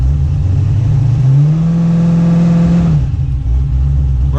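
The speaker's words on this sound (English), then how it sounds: "so I can just sit here and bump while I'm on the brake" A car engine held on a trans brake, idling loudly and close, then revving up as it is bumped, holding a raised pitch for a moment before dropping back to a rough idle.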